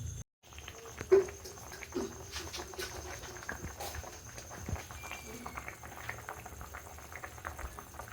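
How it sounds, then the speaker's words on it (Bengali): Water-thinned besan egg curry bubbles in a pan on the stove, a steady close simmer of popping bubbles that continues throughout with no break. "একটু ফুটিয়ে তারপরে এগগুলো দিয়ে দেওয়া হবে এখানে।"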